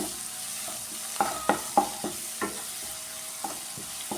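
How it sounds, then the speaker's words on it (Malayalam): Ground masala being stirred into onions frying in a pan for prawn roast, with a steady sizzle under several distinct scraping stirs, close and moderately loud, and no talking. "അത് ഈ ഉള്ളിയിലേക്ക് ഇട്ടിട്ട് നന്നായിട്ട് ഇളക്കി കൊടുക്കും"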